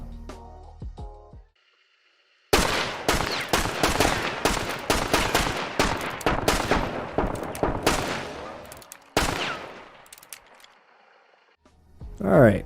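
Paired Pax pistols fire in Hunt Showdown, a dense run of loud, sharp gunshots in rapid succession for several seconds, then a brief gap, a final burst of shots and a fading tail.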